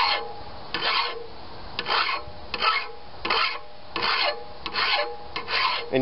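A hand file rasps across a lawnmower blade in steady back-and-forth strokes, about one every half second or so, close and loud with no talk.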